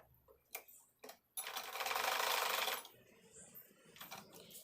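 A sewing machine stitches a patiala salwar in one steady whirring burst of about a second and a half, framed by nearby clicks and fabric handling.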